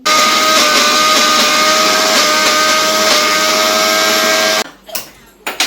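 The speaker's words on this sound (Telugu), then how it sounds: "నేను ఇది మిక్సీ పట్టేస్తున్నాను" Electric mixer grinder whirring loudly and steadily while blending chilli masala, a dense continuous roar that cuts off abruptly near the end, followed by brief clatter and quieter room sounds.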